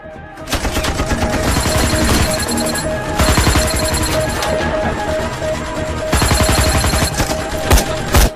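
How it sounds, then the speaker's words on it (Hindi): Gunfire crackles through an action film scene in dense, loud rapid bursts like machine-gun fire, with brief pauses between volleys and sharp single shots near the end. "हम तो फायरिंग कर रहे हैं सर।"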